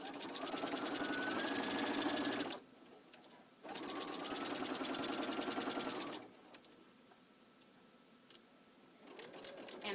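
Sewing machine stitching quilt binding in two loud, fast, rhythmic bursts separated by a brief pause, then quiet handling noise as stitching stops.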